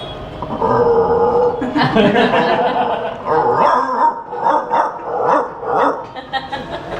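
A brown bulldog barks loudly and close by in a rapid series of deep barks and yips, its bursts of barking stretching across the whole moment.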